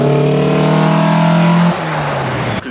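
A 1972 Datsun 1600 fitted with an L20 engine and twin 45 carburettors runs loud and close, its steady engine drone holding high before dropping to a lower idle-like tone near the end.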